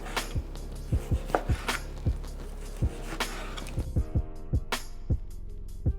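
A knife slices thinly through steak on a cutting board for chili garlic steak noodles, giving a steady series of sharp, close thuds against the board, each cut evenly spaced with no talking.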